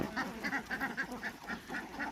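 Laying ducks about 109 days old quack on a duck farm: a quick, regular run of about a dozen nasal quacks, close and fairly quiet, with no talking.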